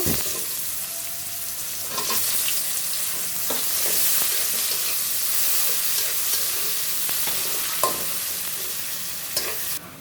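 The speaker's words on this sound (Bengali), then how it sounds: "দেখো পেঁয়াজ ভাজা হয়ে গেছে" Onions and bay leaf frying in oil in a wok while cooking koi fish curry, a steady close sizzle with occasional stirring clinks and scrapes throughout, no talking.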